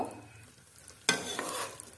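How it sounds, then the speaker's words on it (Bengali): A spoon scrapes through curry thickened with cornflour in a frying pan with a soft sizzle, starting with a sharp clank and continuing as gentle stirring. "এটাকে এখন আমি নেড়ে দেব।"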